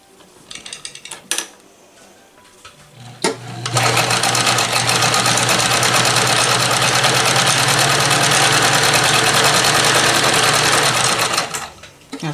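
A vintage Dressmaker sewing machine stitches zigzag with white thread: after a few clicks and clunks, the motor starts and runs in a loud, steady, rapid mechanical chatter for about eight seconds, then stops.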